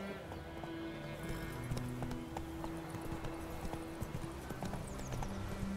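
Hooves clip-clop rapidly as a horse gallops in The Witcher 3, a steady quiet rhythm with an occasional whinny and faint game background sounds.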